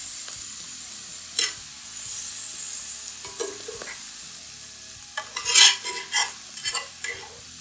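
Garlic sizzling in a pan while being stirred, with scraping utensil strokes and clinks over a steady fry hiss, no talking.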